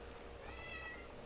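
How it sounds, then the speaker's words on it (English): A cat in the Genshin Impact game gives a single faint, short meow against quiet background sound. "That's my cat."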